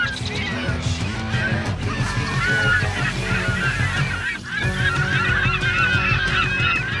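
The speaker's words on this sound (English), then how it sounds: "And these seagulls are all over." Seabirds over a beach during a mullet run make loud, overlapping honking cries in a dense, continuous chorus close by, with some faint talk mixed in.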